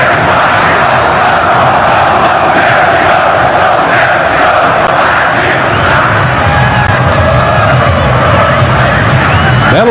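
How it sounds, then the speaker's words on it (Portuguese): A packed crowd of Corinthians supporters roars continuously at Pacaembu stadium during a 2011 Brazilian championship match, a dense, loud wall of cheering and chanting sustained throughout. "reage assim a torcida do Corinthians do Pacaembu"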